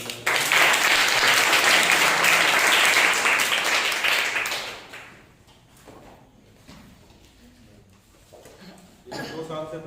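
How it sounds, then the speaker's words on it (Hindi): Loud, dense applause from a church congregation at a Sunday service, filling the first half then fading away to quiet murmurs, with a brief return of clapping near the end. "उनके लिए जोरदार तालियां।"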